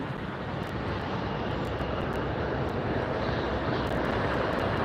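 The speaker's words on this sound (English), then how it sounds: "That's an Airbus 321 200, Airbus 321 Neo 200 series, flight" An American Airlines Airbus A321neo passes at LAX as a steady, broad jet roar, loud and continuous throughout with no voices.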